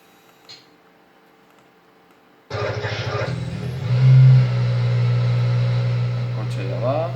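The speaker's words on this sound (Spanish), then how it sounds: "Arranco el coche." A car's engine cranks and catches after a quiet spell, then settles into a steady idle with a short rise in revs. This happens in a workshop after a cooling-fan relay fault is repaired, with no talk over it.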